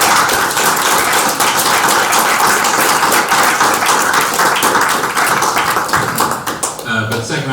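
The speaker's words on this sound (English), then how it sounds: "let's get a round of applause" A large audience at a panel discussion gives a loud, sustained round of clapping that tapers off toward the end.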